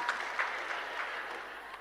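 A church congregation claps in a brief, diffuse burst of applause that spreads evenly through the room and tapers off gently, with no voices rising above it.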